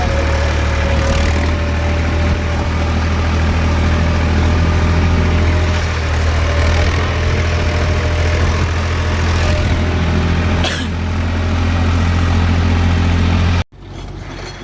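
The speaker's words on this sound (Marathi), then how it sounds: "सेकंड हँड चालला ट्रॅक्टर बांग बांग बांग बांग बांग बांग" A second-hand tractor engine runs steadily on a farm, a loud low continuous rumble with no change in pace that cuts off near the end.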